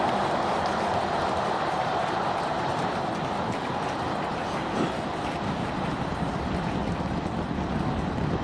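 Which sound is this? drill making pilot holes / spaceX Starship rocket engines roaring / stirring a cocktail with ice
spaceX Starship rocket engines roaring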